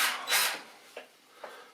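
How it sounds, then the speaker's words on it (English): A handheld drill whirs briefly on a model railway DCC decoder wiring job, a short burst followed by a few quieter scrapes and clicks nearby. "with my trusty drill"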